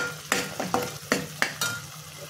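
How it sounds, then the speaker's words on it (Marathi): Spices with goda masala and coriander-cumin powder are stirred in a hot pan, giving about five quick scraping sizzle strokes in an even rhythm, close and moderately loud. "हे छान मसाले परतून झाले"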